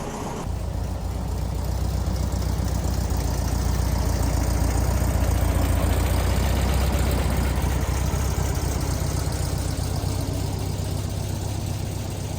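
An air-cooled car engine starts turning over and then keeps running steadily at close range for about twelve seconds, a loud, even rumble with no voices.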